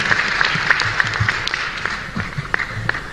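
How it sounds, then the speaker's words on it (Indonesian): Audience at an Indonesian Air Force base applauding the Air Force, scattered, moderately loud clapping that sounds thin and uneven, with crowd noise underneath. "Tepuk tangan buat Angkatan Udara kita."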